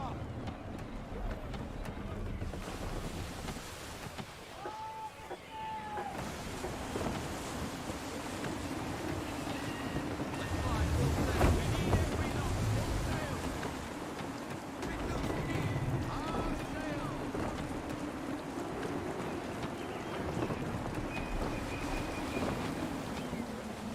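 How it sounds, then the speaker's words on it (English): Gusty wind rushes around a sailing ship on open sea in the game Assassin's Creed 3, with waves washing under steady background noise and game character voices talking over it. "Wind looks to be shifting. Stay alert, Connor. Gusty winds can be difficult to manage."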